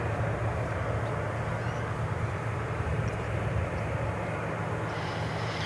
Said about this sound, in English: that should be American Flight 2517 going to Calgary in Canada,